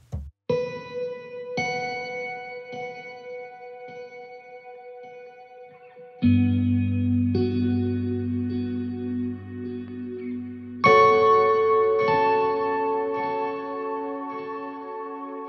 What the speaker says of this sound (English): So if I turn this off and turn the reverb up so you can hear it.